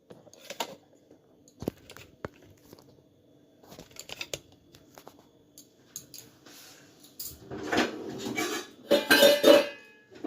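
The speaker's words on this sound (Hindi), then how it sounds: "तो चलिए हम कढ़ाई चढ़ाते हैं" A metal kadhai set down on a home stovetop among clinking utensils, with scattered light clatter building to louder metallic clanks near the end.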